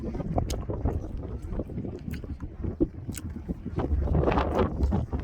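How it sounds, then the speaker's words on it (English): Strong wind buffets the microphone on the summit of Mount Lincoln in New Hampshire's White Mountains, a steady, roaring rush, with gusts swelling louder toward the end. "Windy as shit"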